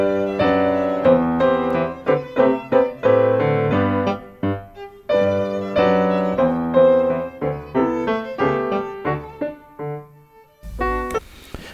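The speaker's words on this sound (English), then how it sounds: "This is actually how it sounds when we put a spot microphone on the piano." Piano captured by a close stereo spot microphone at a live session, with only faint violin bleed; a clear melodic passage of struck notes and chords rising and decaying in phrases, loud and near, with a brief noisy moment at the end.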